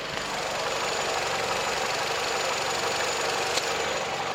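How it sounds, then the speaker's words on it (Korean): A gasoline SUV engine idles steadily up close with the engine bay open, a continuous even hum with faint knocking texture and no voices. "엔진룸 열어놨고요 엔진 사운드 한번 들어볼게요"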